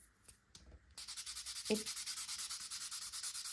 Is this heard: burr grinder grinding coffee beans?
no